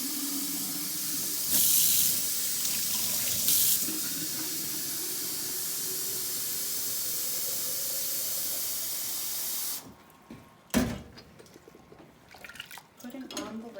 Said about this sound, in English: Swirling some of that extremely hot water on the inside, filling the water bottle up.